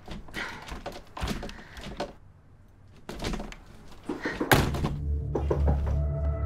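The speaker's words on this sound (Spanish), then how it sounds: "Esta puerta debe estar mala." Wooden interior door in a house rattled and thumped by a strong wind gust, several irregular knocks and thuds at close range, followed by a low rumbling rush of air.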